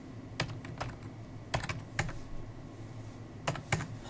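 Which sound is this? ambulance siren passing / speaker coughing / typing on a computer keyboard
typing on a computer keyboard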